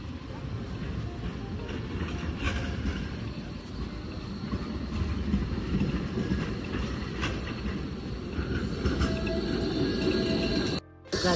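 A train moving through a Berlin station, with a continuous low rumble and rolling rail noise throughout, faint higher clatter over it, and a brief dropout near the end.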